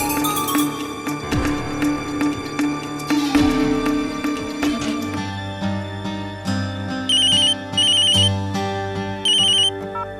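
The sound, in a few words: phone ringing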